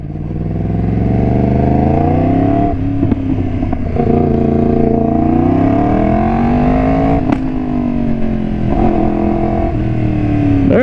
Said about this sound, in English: That's how an exhaust is supposed to sound